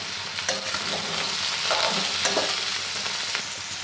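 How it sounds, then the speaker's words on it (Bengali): Potatoes and onion stalks fry with turmeric and chilli in a pan, giving a loud, dense sizzle up close with repeated spatula strokes scraping through the mixture and no voices. "2 মিনিট হয়ে গেল আলু পেঁয়াজকলিগুলো ভাজতে"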